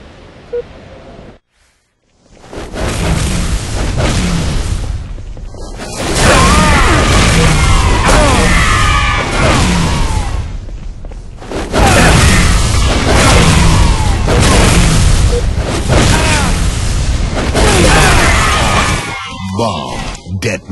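In a Halo Reach Grifball match, a bomb detonates with heavy booming blasts and crashing debris that roar loudly for several seconds, then a second sustained wave of explosive rumble follows after a short dip.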